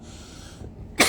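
A single sharp cough bursts out at the very end after a brief quiet, close and loud, from a woman recovering from illness during a live stream.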